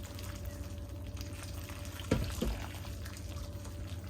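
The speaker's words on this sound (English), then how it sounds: "Just add some water, enough to cover the whole food" Water poured into a pot of black lentils and hot Cameroon peppers, a short splashing burst over a steady kitchen hum, close and moderately loud.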